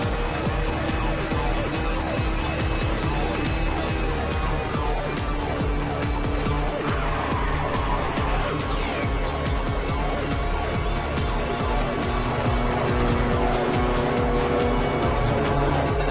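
Race cars roaring continuously in the Ridge Racer video game, a loud sustained engine drone with rising and falling pitch and tire squeal, backed by music, no talking.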